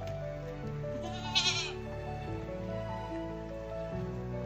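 Goats and kids bleating outdoors on a farm, several overlapping wavering calls, one louder cry standing out briefly, others softer and sustained.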